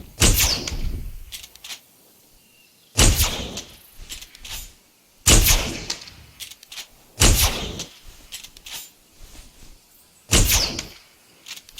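Gunfire in the Return to Jurassic Park video game: about five sharp, loud blasts spaced a couple of seconds apart, each trailing off in a short echoing decay.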